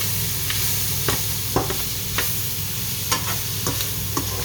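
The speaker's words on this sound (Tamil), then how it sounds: "கொஞ்சம் தூள் போட்டு மிளகு காரம் இந்த நாங்கள் நல்லா பிரட்டி விடுவோம்." Dried fish with chilli and pepper powder being stirred in a hot pan, with a steady sizzle of frying under a string of sharp spatula scrapes and clinks against the pan.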